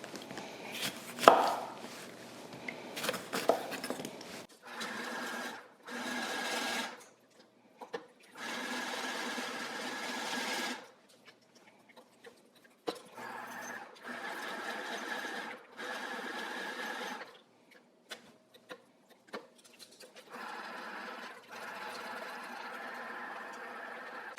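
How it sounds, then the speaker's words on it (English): Citrus slicing machine cutting lemons in repeated loud mechanical whirring bursts, each lasting a few seconds, separated by short quiet gaps and faint handling knocks. "I think what I might do is go through and slice all of these"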